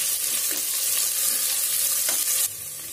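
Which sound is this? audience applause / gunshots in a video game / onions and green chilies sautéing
onions and green chilies sautéing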